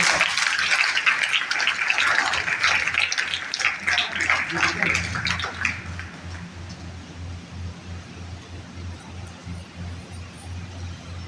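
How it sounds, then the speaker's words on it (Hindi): An audience applauds at a tribute ceremony for V. Krishnamurthy, with students in attendance. The loud, dense clapping lasts about six seconds, then fades to a quieter murmur and scattered noise. "एक बार ताली तो बजा सबके लिए।"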